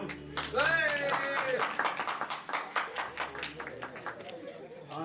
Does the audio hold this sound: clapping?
yes